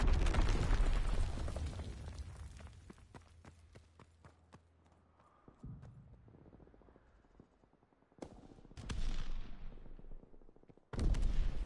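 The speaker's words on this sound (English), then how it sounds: "Incoming enemy artillery." Enemy artillery fire in a World War II video game, with a dense opening barrage of booms and cracks that thins to scattered hits, then a few more loud blasts after a short lull.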